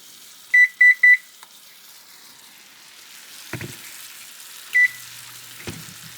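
An oven control panel chirps three quick beeps as its temperature is raised to 425 degrees, then a single beep follows a few seconds later, with faint kitchen clatter in between and no talking.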